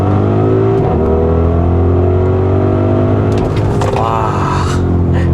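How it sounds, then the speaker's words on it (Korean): An Audi RS Q8 SUV of 600 horsepower and over 2.4 tonnes launches hard in RS mode under launch control, its engine roaring loud and steady from inside the cabin as it pulls through rising revs. "다음에 브레이크 페달을 꼭 밟은 상태에서 가속 페달을 누르게 되면은 이제 런치 컨트롤 상태가 되고요. 그 다음에 바로 가속."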